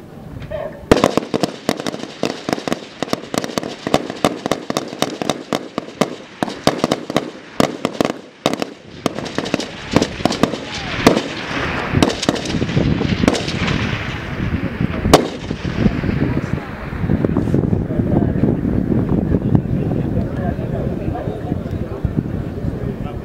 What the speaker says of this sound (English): Extended formation, where they will display their firing skills.